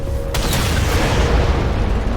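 Particle cannon firing in Halo 4, a sharp blast followed by a heavy, rumbling boom that lingers and slowly fades, with no voices.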